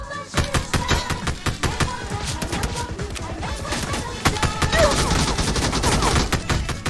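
Rapid gunfire in the mobile battle royale game Peacekeeper Elite during a final-circle fight, dense bursts of shots crackling loudly and continuously over several seconds, with game chatter faintly underneath.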